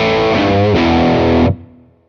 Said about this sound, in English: you heard the Paisley Drive Deluxe through the AC-15